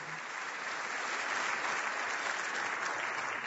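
A church congregation claps together in a steady, even burst of applause, a bright continuous patter heard at moderate distance that holds its level throughout, with no voices on top.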